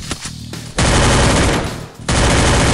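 Rapid automatic gunfire in the mobile battle game Free Fire, loud close bursts with a short pause between them and sharp shots at the start.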